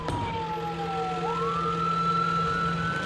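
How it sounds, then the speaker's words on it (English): An ambulance siren wails continuously, loud and close, its tone dipping and then rising again over a steady engine rumble, with no talking. "Dr. Holland and Janine race with her by ambulance to the ER."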